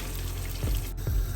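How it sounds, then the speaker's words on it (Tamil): Water poured into a cooking pot holding potatoes and tomatoes, a steady close splashing stream with no talking over it. "இந்த உருளைக்கிழங்கு தக்காளிக்காய் அவியறதுக்கு அளவான தண்ணியை நான் இப்ப விட போறேன்"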